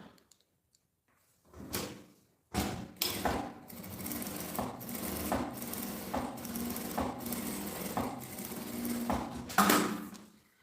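A sewing machine stitches close along the teeth of a zipper on a baguette handbag, with a rapid mechanical whir in several runs broken by short pauses and clunks, loud and near.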